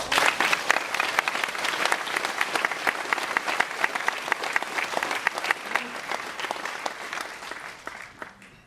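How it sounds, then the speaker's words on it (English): Audience applause at a Solano College firefighting academy graduation ceremony, sustained crowd clapping with crisp individual claps throughout, loud and close, no talking over it. "Let's give us all a round of applause"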